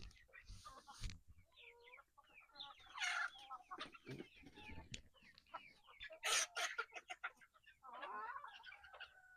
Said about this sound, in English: all my chickens are now officially mixed in